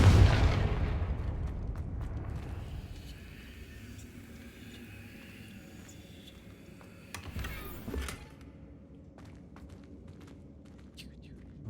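A Confringo blasting spell goes off in Hogwarts Legacy, opening with a loud booming burst that rumbles away over several seconds, followed by a second, smaller blast and scattered clicks.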